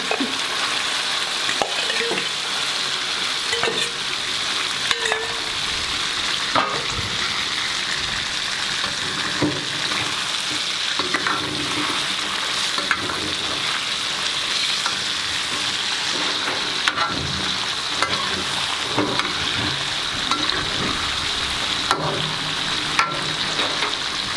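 Sichuan mala hot pot ingredients stir-fried in a pan give a steady, loud sizzle, with scraping and stirring clatter running throughout and no voices.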